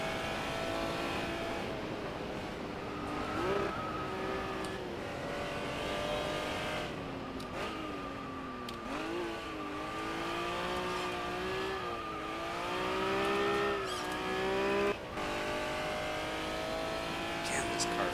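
A Honda NSX-R racing on dirt in a video game, its engine droning and rising and falling in pitch through gear changes and corners, with someone talking over it throughout.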